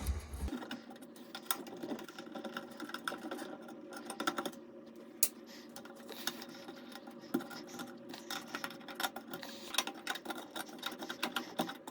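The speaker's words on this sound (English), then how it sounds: "So I'm just gonna unscrew them." Mounting screws holding a recessed can light to a wall or ceiling are worked loose by hand, making continuous close scraping, clicking and ratcheting mechanical noise with small irregular knocks throughout and no talking.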